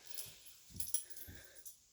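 A pet dog whimpers softly in a few short, faint whines spaced apart, close by in a quiet room, ending with a brief sharper noise.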